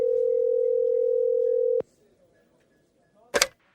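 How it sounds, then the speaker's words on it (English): A steady telephone dial tone hums for almost two seconds while a call is being patched through, cuts off abruptly, and after a near-silent pause a brief burst of noise follows. "can you patch me through to her phone?"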